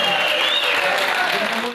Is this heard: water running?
no